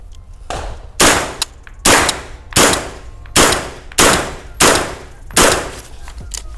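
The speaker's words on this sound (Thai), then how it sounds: "เดี๋ยวจะลองยิง รอบนี้จะปั้นๆเลยนะครับ ยิงช่วงสะดือนะฮะ" An I.C.R.W. Berserker PCC fires about seven loud, close shots at a steady, unhurried pace on a 10-metre range, each sharp report followed by a short ringing decay.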